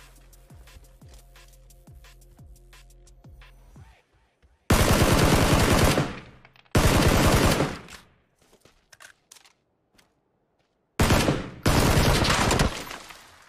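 Bursts of automatic gunfire from a PUBG match crack out in three loud, dense volleys separated by silent gaps, after a stretch of quieter mechanical game noise.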